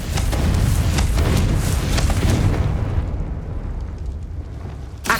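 A Confringo fire spell bursts in Hogwarts Legacy, a loud, rumbling explosion that fills the first three seconds, then trails off into a softer decay, ending in a small thump.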